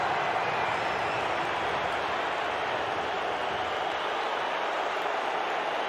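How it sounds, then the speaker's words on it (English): A Bundesliga stadium crowd roars over a Dortmund goal, a dense, steady wash of distant cheering that holds at an even level throughout with no clear voice above it. "You can hear the cheer."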